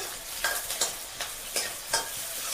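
Chopped onions stirred in hot oil in a home kitchen pan, a steady soft sizzle broken by four or five scraping stirs at irregular intervals, close and moderately quiet with no talking.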